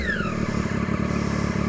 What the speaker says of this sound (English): Okay, let's do some revs.